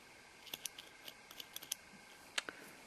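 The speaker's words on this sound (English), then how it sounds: "I really need some sharper scissors, these ones are getting really blunt." Several quick, crisp snips of blunt scissors cutting yarn, spaced irregularly and close by, with quiet pauses between them.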